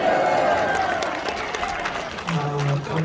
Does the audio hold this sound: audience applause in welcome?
yes